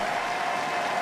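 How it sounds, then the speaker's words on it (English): Spectators applaud steadily at a blind football match during a player substitution, a dense, even patter of clapping filling the stadium throughout the short burst. "on peut les applaudir bien fort"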